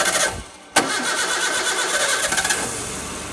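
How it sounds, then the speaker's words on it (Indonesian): A Zebra Espass 1.3 S89 engine cranks briefly, catches with a sudden burst and settles into a steady, close idle with a slightly uneven mechanical rumble. "Alhamdulillah dari mesin sudah bisa hidup kembali."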